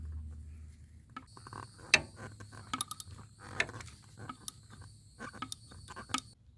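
A socket ratchet clicks in short uneven bursts while loosening a brake caliper bolt on a Kawasaki Teryx, with metallic ticks and faint clanks up close and a low background hum.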